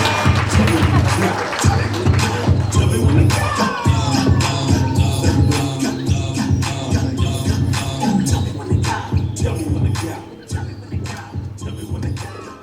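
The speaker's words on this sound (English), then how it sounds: "Let's give him a round of applause." Audience applause at a USA Boxing banquet welcoming a speaker to the stage: a sustained, fairly loud patter of many hands clapping across a full hall, with voices and crowd murmur mixed in and the clapping thinning toward the end.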